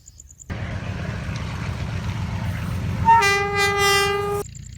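A train horn played over a loudspeaker starts with a steady rumble of the moving train, then gives one long, loud blast that stops sharply.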